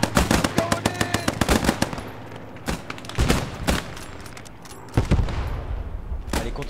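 Heavy gunfire in the Post Scriptum Battle of France scenario: a rapid string of close automatic bursts, then scattered louder single shots and further volleys, loud and continuous with no pause.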